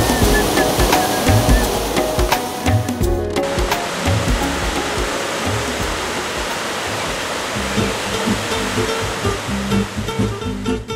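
Kamianka waterfall in the Carpathian mountains, a steady loud rush of falling water filling the scene from start to finish, with a few faint knocks near the beginning.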